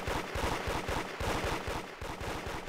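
Towers shooting in a Roblox tower defense game, rapid repeated gunfire in a steady machine-gun rhythm with sharp low thumps, continuous and moderately loud throughout.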